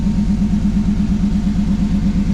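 A 1959 Chevrolet Apache truck engine idles steadily with a low, even, pulsing rumble, close by and alone.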